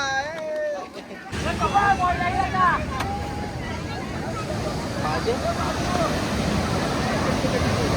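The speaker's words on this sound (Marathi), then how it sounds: "काशीदचा हा समुद्र एकदम खवळलेला आहे आता आणि पाण्याच्या लाटा सुद्धा आहे समोर येत आहेत" Rough, churning sea at Kashid beach near Murud, with waves rolling toward shore as a steady broadband wash under wind buffeting the microphone, preceded by a short burst of whistle-like tones and voices in the background.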